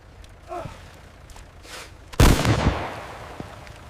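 A single sharp report from a Soviet rifle, loud and close, bursts out suddenly and tails off into a brief rumbling decay, after a quieter stretch of faint movement and breath.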